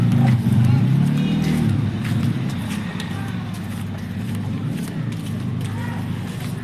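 Vehicles drive past a park, heard as a continuous rumbling road noise that stays loud and steady, with faint clatter and a few higher sounds mixed in.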